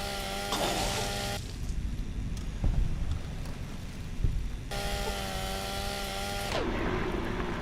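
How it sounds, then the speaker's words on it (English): A handheld chainsaw cuts through plant life in Fallout: New Vegas, its steady droning buzz running in two long bursts with a quieter windy stretch between them. "We're just running around, cutting up this plant life with a handheld chainsaw"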